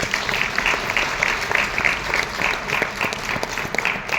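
An audience claps together for a few seconds at a motivational lecture program, a dense, even patter of many hands that swells and dips slightly, with a faint voice underneath.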